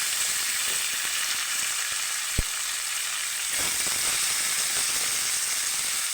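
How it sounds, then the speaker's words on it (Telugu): Chicken frying in a pan with onions, tomatoes and green chillies for a chicken gravy curry, a steady bright sizzle throughout with a single sharp tap of the utensil and faint stirring scrapes, no voices. "ఆనియన్స్, టమాటాలు, పచ్చిమిర్చి ఇందులో చికెన్ వేసేస్తున్నా."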